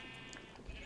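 A single short sheep bleat from the Minecraft video game, faint and heard alone.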